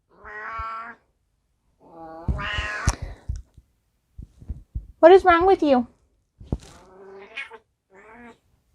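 A pet cat meows several times at home in the early morning, wanting to be fed; the drawn-out, tonal cries come close and fairly loud, alternating with someone speaking to it.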